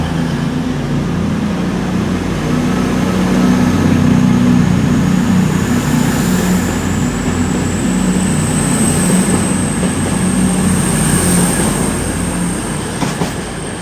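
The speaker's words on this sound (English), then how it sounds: "going out now will be the Great Eastern Railway service to Paynton, on time as well" A Great Western Railway train pulls out of Exeter St Davids station toward Paignton, a loud, steady rumble of wheels and engine close by, with a rising high-pitched whine and a faint squeal near the end.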